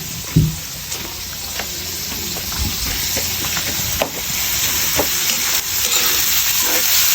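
A spoon stirs mung bean soup (sinabawang monggo) in a pot, with a steady hiss of simmering and sizzling under occasional scraping knocks against the pan.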